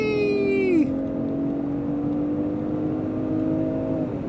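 A 2024 Range Rover Sport P400 under full kickdown acceleration: a steady, loud engine drone with a quick pitch drop on the downshift, then a sustained, rising pull heard from inside the cabin.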